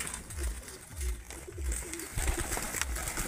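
Pigeons being hand-dosed with a natural dewormer coo in repeated low, throaty pulses at a steady rhythm, close by and moderately loud, with faint background noise.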